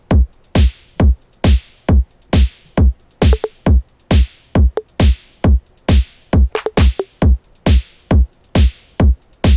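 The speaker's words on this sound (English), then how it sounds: "So all the drums together sound like this." A full electronic drum beat in a dance track plays alone: punchy booming kicks, snappy claps and ticking hi-hats in a steady, loud, repeating groove.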